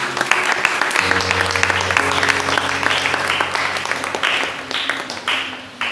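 A church congregation applauds and acclaims the Lord together, a full, sustained burst of clapping filling the room for several seconds, with a few voices faintly audible beneath.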